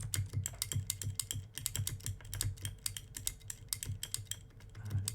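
Crisp, quiet clicks of a computer keyboard being typed on at a brisk, uneven pace, with the backspace and space keys giving a slightly different, deeper thock than the rest; no voices.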